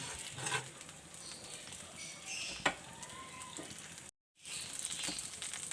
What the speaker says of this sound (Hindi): मैं इसे भूनूँगी।